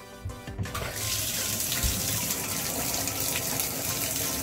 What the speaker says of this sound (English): next, what you're going to do is you're going to turn on the water